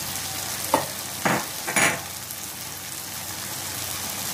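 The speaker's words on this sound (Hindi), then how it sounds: "इन सब मसालों को एक साथ करके उसको 2 मिनट फिर से फ्राई कर लेंगे" Chhole masala spices (red chili powder, cumin powder, salt and turmeric) frying in oil, three quick spoon scrapes through the pan over a constant quiet sizzle, nearby and with no talking.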